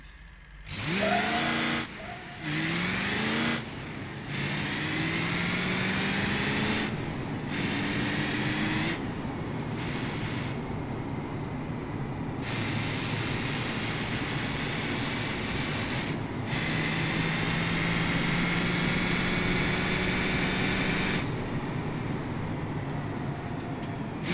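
A deep 6-liter diesel truck engine in the driving game BeamNG.drive drones steadily and loudly, with low rumbling tones rising and falling as it revs and shifts, uninterrupted by voices.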